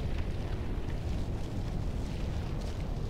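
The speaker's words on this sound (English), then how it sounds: "We have to hurry. The whole place is caving in." Deep, continuous rumbling of a collapsing cave in the video game Mass Effect, a dense low roar with faint gritty debris noise above it, steady and loud for the whole stretch with no voices.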